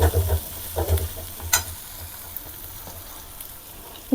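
Masala of Kashmiri chilli, hot chilli and coriander powders sautés in a pan for a vegetarian potol dish, with a low sizzle under a few close bursts of stirring and spatula scraping that fade to a quieter hiss.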